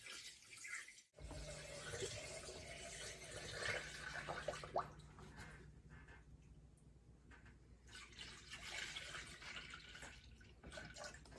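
Coolant pours slowly into a Toyota Tundra truck radiator in a continuous gurgling trickle, close by, with brief pauses and a faint watery hiss throughout.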